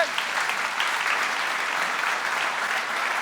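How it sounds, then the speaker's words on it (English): An audience at an academic awards ceremony gives a short round of steady applause, a dense even clatter of many hands clapping with no voices over it. "he deserves a big hand from all of us"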